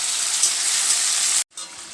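Meat dropped into a pan of fried spices sizzles loudly in a steady hiss, cutting off sharply for a moment before the frying noise returns.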